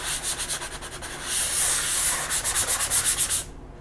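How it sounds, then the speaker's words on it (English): Light hand sanding of a gessoed panel, rhythmic back-and-forth rubbing strokes, close and steady, with a slightly faster run of strokes near the end. "And I'll just do a light sanding on my panel."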